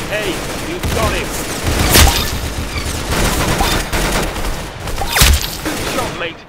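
Rapid bursts of gunfire from a shooter video game, with loud volleys around two and five seconds and steady game noise in between, while a player talks over the shots.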